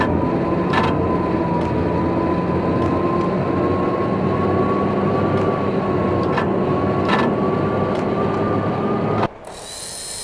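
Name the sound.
train passing in the video game Max Payne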